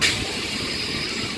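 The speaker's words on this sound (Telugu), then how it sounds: "ద్వారపూడి నుంచి మన ట్రైన్ అయితే బయలుదేరిపోయింది" A MEMU express train pulls out of Dwarapudi station, heard from on board as a steady rumbling roar with faint hiss and rail noise, no talk.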